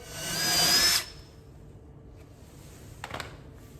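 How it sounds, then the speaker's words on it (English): A power drill bores a little more to widen a hole in a 2019+ Mercedes Sprinter VS30 van body for a door plate: one loud, whining burst of about a second, then quiet with a faint knock. "Still doesn't fit, so we got to drill a little bit more."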